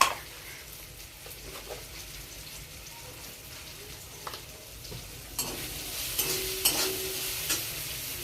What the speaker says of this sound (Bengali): দেখো ভাজা হয়ে গেছে পেঁয়াজগুলো। এতে আমি এখন লবণ দেবো।